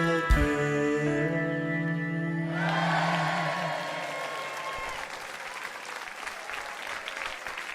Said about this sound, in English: You always get a better round of applause than I do.